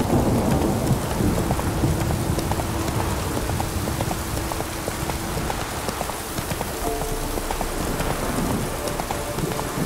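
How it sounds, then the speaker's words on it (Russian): A thunderstorm with steady rain pours down in The Witcher 3, a dense wash of falling drops with low rolling thunder underneath, constant and close throughout. "Гроза?"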